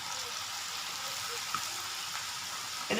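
Mushroom pieces in batter with ginger and garlic frying in hot oil at a roadside-style Coimbatore kalaan stall recipe, giving a steady soft sizzle throughout with a few faint stirring clicks near the end.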